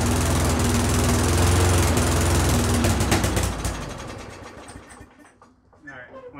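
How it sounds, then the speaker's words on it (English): A Craftsman self-propelled lawn mower engine runs loud and close with a rough, sputtering roar, then dies down into irregular pops and crackles from the exhaust as it winds down, with someone talking over it. "getting some of that backfire and all that stuff, because it's all in the exhaust, right?"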